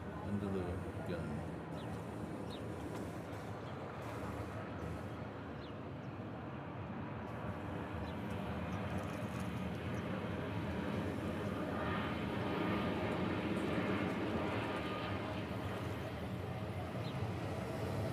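An ANA Airbus A380 airliner landing at Honolulu, a steady loud roar of jet engines sustained throughout with wind noise, no clear voices over it.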